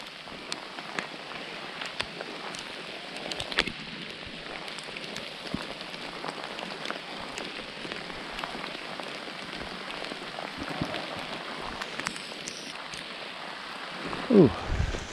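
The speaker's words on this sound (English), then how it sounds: "This rain really has my heart singing." Steady rain falls on surfaces outdoors, a soft continuous patter with scattered louder drops, and a brief voiced sound near the end.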